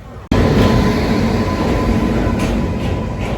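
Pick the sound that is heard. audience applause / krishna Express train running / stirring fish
krishna Express train running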